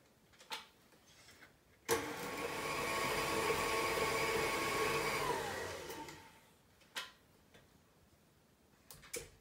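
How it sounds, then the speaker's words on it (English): An electric mixer beats cake batter on high speed, a steady whirring drone that swells for several seconds and then dies away, with faint clicks and knocks before and after. "Then you need to beat that on high speed for about 2 minutes."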